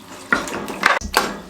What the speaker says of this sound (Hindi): मिक्स करने के बाद इसको हम कवर लगा देंगे प्रेशर कुकर का।